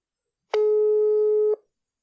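A single steady telephone tone plays once for about a second while a call is being placed, clean and loud against silence, with no voices around it.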